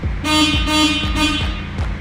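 The horn of an STI car blares in a series of loud, rapid honks, several short blasts in quick succession, close by.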